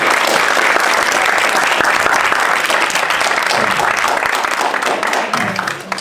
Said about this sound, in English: can we just give a round of applause to our amazing panel